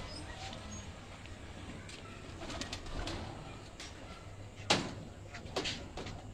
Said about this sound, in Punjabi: ਬਹੁਤ ਹੀ ਆਊਟ ਕਲਾਸ ਬਰੀਡਰ ਕਬੂਤਰ ਹਨ ਉਸਤਾਦ ਚੌਧਰੀ ਫਿਆਜ਼ ਦੌਰੀਆ ਸਾਹਿਬ ਕੋਲ